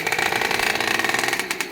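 A tuned Derbi moped engine runs steadily near at hand for the whole stretch, a buzzing two-stroke drone with a fast, even pulsing and no talk over it.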